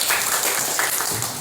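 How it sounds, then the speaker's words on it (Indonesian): A brief burst of dense clapping from students in a school classroom during a lesson, steady and close for just over a second. "tepuk tangan dulu"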